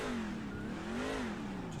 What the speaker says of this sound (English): You can just hear the revs go